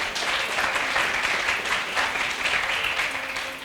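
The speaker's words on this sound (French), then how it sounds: "Monsieur Ibrahim Gueye, sous vos applaudissements s'il vous plaît." An audience at a French-language eloquence debate contest applauds in a steady, dense burst of clapping that fills the room, with no words spoken over it.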